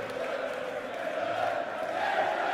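A darts crowd at the Grand Slam of Darts final roars behind Phil Taylor, a dense, continuous wash of cheering and chanting that swells slightly toward the end, with no clear single voice.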